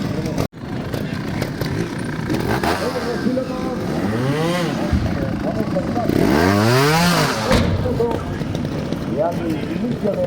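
A trial motorcycle engine revs and rises in pitch, with sweeping tone changes as it accelerates onto a circuit at a charity trial event, fairly close, while a voice talks over it.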